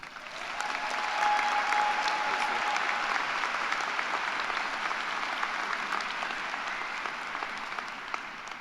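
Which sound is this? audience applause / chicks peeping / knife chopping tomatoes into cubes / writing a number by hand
audience applause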